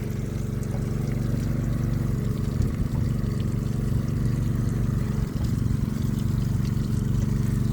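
Continuous rushing of water forced through a sprayer's hoses and spraying out both sides during a flush, steady and fairly loud with a low mechanical hum beneath and no talking.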